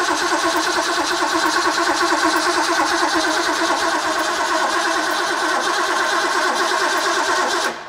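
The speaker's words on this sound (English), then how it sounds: "We'll spin her a little bit without the coil on, so no ignition." A Ford 351C V8 being cranked on its starter with the coil off, so it does not fire: a loud, steady, rhythmic whirring churn lasting several seconds before it cuts off abruptly.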